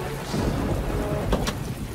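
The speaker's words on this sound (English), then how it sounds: "this place will suit me to wait out the rain and thunder" Steady rain pours in the Minecraft game world, with a sharp thunder crack cutting through the downpour, close and loud.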